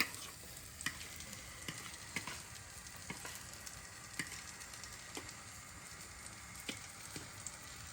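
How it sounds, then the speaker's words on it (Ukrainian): Cauliflower in batter sizzling and crackling in a frying pan, a continuous quiet hiss with sharp pops scattered throughout. "обмакую в клярі викладаю на сковорідочку і так само швиденько обжарюю"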